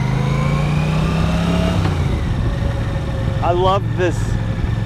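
Engine of a 1983 Honda CX650 Turbo shaft-drive motorcycle running while ridden, a steady, fairly loud mid-pitched hum with a brief shift in tone, under a man's speech.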